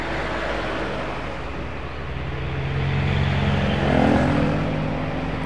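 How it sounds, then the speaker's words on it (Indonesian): Large cargo trucks loaded with freight rumble past on a road at night outside Artos in Magelang, a broad low engine roar that swells as one draws nearer, then eases, heard alone at moderate distance. "Nah ini udah habis yang truk terakhir."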